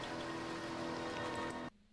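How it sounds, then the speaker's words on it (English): Pouring rain from the 1980 horror film Friday the 13th makes a steady, dense hiss with faint sustained musical tones beneath it, and the sound cuts off abruptly near the end. "You can see it's pouring rain."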